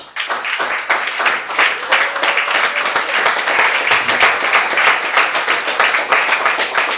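A church congregation at a Sunday service claps loudly and continuously, a close, dense patter of many hands with a slightly rhythmic pulse that carries evenly to the end.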